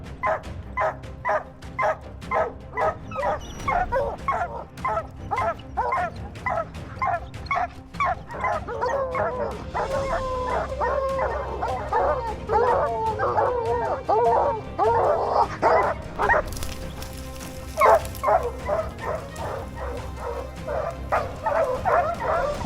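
Hunting dogs on a wild boar hunt bark repeatedly in fast bursts, with higher yips and whimpering mixed in. The barking is close and loud, with a voice talking at times.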